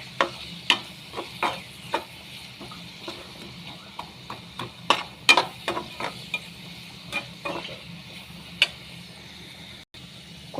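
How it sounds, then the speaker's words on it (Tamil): Onions being stirred and sautéed in a pan, a steady run of close scraping clicks and spoon knocks over a soft continuous sizzle, with no talking. "இப்போ நல்லா கிளறி விடணும். வெங்காயம் கொஞ்சம் நல்லபடியாக வதங்கணும்."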